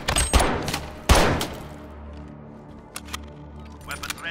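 In-game gunfire in Call of Duty: Modern Warfare, two loud close shots with ringing tails near the start, then scattered fainter shots further off, with game voices talking over it.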